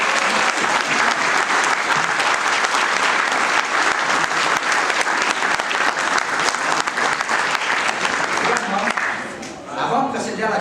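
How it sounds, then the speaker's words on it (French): Sustained audience applause fills a gala evening hall, steady and dense for about ten seconds before tapering off near the end. "je suis prêt à donner une bonne main d'applaudissement pour tout le monde qui est venu ici ce soir"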